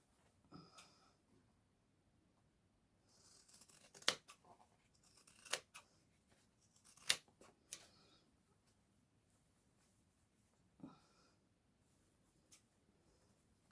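Scissors snipping through fabric for a sewing project, several close, crisp cuts arriving in irregular clusters with quiet pauses between, faint and with no talking.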